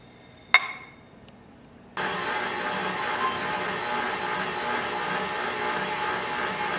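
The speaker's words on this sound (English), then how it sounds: "we're going to add 2 cups of sugar and let it blend for about 2 minutes" An electric mixer blends butter and sugar for cake batter, starting after a single sharp click and then running as a steady, close whirring hum for several seconds, alone without speech.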